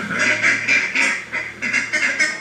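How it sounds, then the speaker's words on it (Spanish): A duck quacks repeatedly in a quick, steady series of nasal calls, close and fairly loud, with no talking over it. "El pato."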